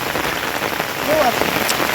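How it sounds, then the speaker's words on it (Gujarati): Steady unseasonal rain pours down on a farm, a dense hissing patter close by that continues without a break. "કેટલો વરસાદ પડે છે"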